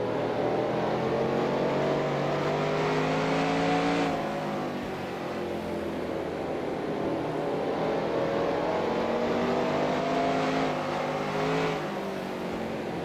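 Race cars roar around the Hickory short track in the NASCAR Racing 2003 video game, engines droning and rising and falling in pitch as the pack passes, steady and loud with no talk.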